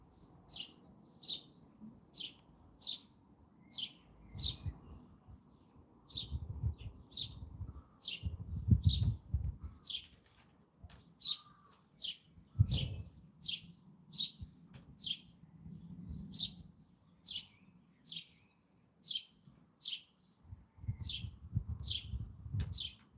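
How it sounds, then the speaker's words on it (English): Birds chirp outdoors in a repeating series of short, bright calls spaced about a second apart, fairly near and clear over soft low rumbles of wind and distant ambience. "Listen to the sounds of the birds, the wind,"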